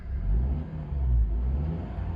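A Honda Element engine with a replaced catalytic converter revs steadily, giving a smooth, fairly quiet low rumble with two gentle swells and no drone, heard alone and close.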